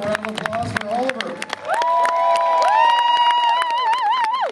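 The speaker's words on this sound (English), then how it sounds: "one more round of" A talent show crowd in New Brunswick cheers and applauds after a song, with scattered claps giving way to sustained shouting and whoops that swell loudly and hold through the end.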